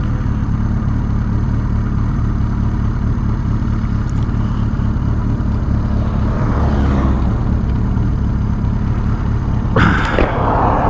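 A custom-built 1983 Suzuki GS 1100E motorcycle on its first ride after a three-year build, engine running steadily with a loud, constant drone, heard close with a slight miss.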